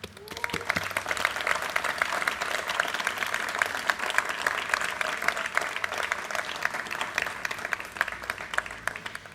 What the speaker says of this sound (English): dear graduates, give yourself a round of applause